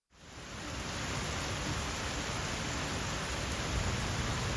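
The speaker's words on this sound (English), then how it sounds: "The rain just started so hard, and we just didn't know that it was going to linger on." Heavy rain pours down steadily during a flash flood over a garden, a dense, loud, unbroken roar of falling water that stays even from start to finish.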